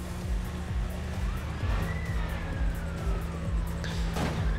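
Police car sirens wail over a steady engine rumble during a high-speed street chase in Need For Speed World, with a rising-and-falling siren sweep and a rhythmic thumping pulse underneath, loud and continuous.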